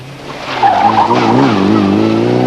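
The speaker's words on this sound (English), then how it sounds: "Good aggressive driving from the all-girl team." Rally car driven hard on a special stage at the 1993 Hunsrück Rallye, its engine loud and close with rising revs and tyre scrabble as it powers past, no talk over it.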